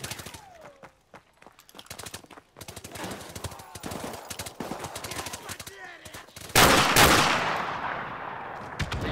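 Gunfire in Call of Duty: Modern Warfare Remastered, with rapid sharp bursts of shots and sustained automatic fire, then a loud explosion-like blast that rumbles on near the end.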